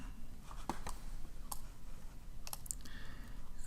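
A computer mouse clicks the invert button: a few faint, crisp clicks spaced irregularly in a quiet room, with a pair of quick clicks near the end.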